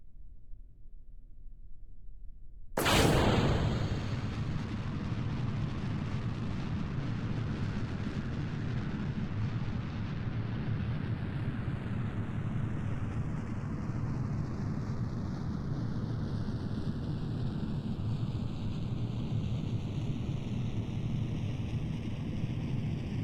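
Rocket engine in Kerbal Space Program ignites abruptly after a quiet start, then roars as a loud, steady broadband rush that continues unbroken, with a falling whistle-like tone sweeping through it.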